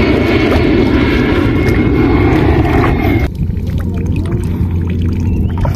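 Propeller aeroplane passing low overhead near the shore during a fishing outing, a loud steady engine drone that suddenly drops off about halfway through and continues as a lower rumble.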